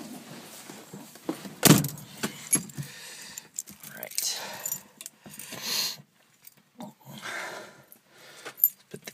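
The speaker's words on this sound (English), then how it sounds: "Key in here." Keys jangle close by as a key slides into the ignition of a 1964 Saab 96 on a cold 43-degree day, a sharp metallic rattle near the start followed by softer clinks and handling noises.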